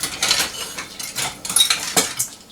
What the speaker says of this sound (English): I come in here with my little whisk